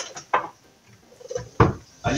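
An Italian moka coffee pot is handled with a few sharp metallic clinks and knocks, separated by quiet gaps, alongside faint voice sounds.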